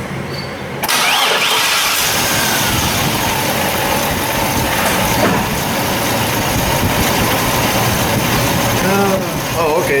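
A Chevy S-10 pickup cranks briefly, catches, and settles into a loud, steady idle that runs close and continuous to the end, with small mechanical whines over the engine drone.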